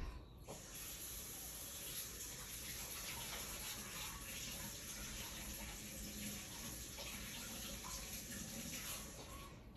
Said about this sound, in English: I'm about to go pour some water in this.